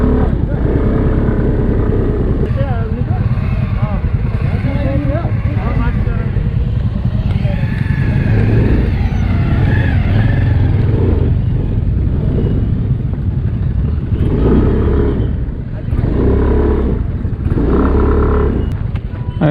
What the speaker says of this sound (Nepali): यहाँ चाहिँ पुरा खतरा जाम भइरहेको छ।